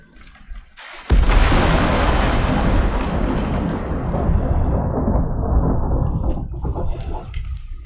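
A crash of thunder from a lightning storm in the survival game Icarus bursts in loudly after a brief quiet, then rolls and rumbles for several seconds before slowly dying away.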